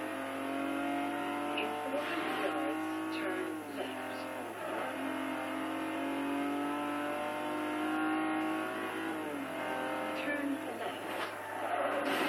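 A pink truck's engine revs and strains in a racing video game, the roar rising and falling steadily for the whole stretch along with a brief tire squeal, while a voice talks over it.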